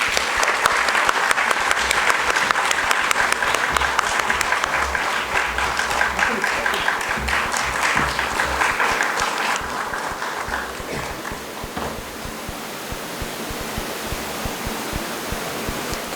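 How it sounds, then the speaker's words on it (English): Audience at a Tezpur University Foundation Day ceremony breaks into loud, sustained applause, dense clapping that thins slightly toward the end. "A round of applause, please"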